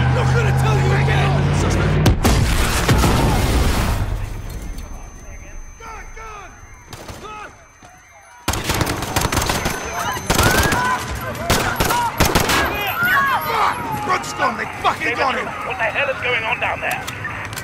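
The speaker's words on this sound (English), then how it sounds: "There's been a detonation at Piccadilly Circus. Shots fired." Bursts of gunfire and blasts in Call of Duty: Modern Warfare 2019 near Piccadilly Circus, with loud rapid shots, heavy impacts and a sudden gap before the firing resumes, mixed with shouting voices.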